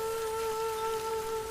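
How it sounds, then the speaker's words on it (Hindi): Rain falls steadily in a cartoon forest, a continuous soft hiss of drops with a sustained tonal drone running underneath throughout. "टूटू बारिश रुकने का इंतज़ार करता है पर बारिश रुकती ही नहीं"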